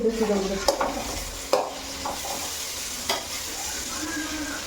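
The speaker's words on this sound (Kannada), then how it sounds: "ಇವಾಗ ಬದನೆಕಾಯಿ ಚೆನ್ನಾಗಿ ಫ್ರೈ ಮಾಡ್ಕೊತಾ ಇದ್ದೀನಿ ಅದು ಕೈ ಬಿಡದೆ ಆಡಿಸ್ತೀನಿ" Eggplant sizzles steadily while frying in a pan, with a spatula stirring and scraping at intervals and a few sharp clinks against the metal, close and moderately quiet, no talking.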